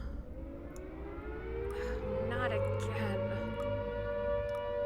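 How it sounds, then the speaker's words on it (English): Air raid sirens wail in a video game, a rising, sustained mechanical tone swelling louder over several seconds, while a person speaks briefly over it. "Ah, air sirens."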